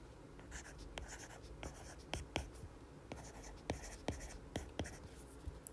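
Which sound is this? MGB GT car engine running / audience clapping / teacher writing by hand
teacher writing by hand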